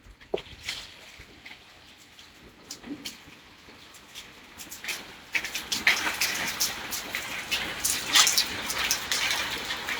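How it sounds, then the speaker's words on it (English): Faint rain patters steadily outdoors, with scattered drips and taps growing a little louder toward the end. "It's raining."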